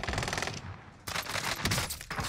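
Rapid automatic gunfire in a Rebirth Island battle royale match: a burst of shots, a short pause, then further sustained bursts, loud and close with no talk over it.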